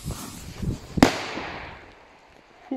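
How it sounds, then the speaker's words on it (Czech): A La Bomba firecracker detonates in a heap of snow outdoors with a single sharp, loud bang followed by a decaying hiss of scattering debris; faint rustling and movement precede it. "jdeme si v tom odpálit petardy"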